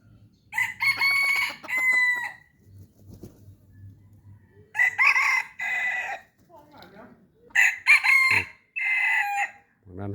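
A decoy fighting cock crowing repeatedly, several loud, close, drawn-out cock-a-doodle-doo calls separated by short quiet gaps, with occasional soft clucks between them.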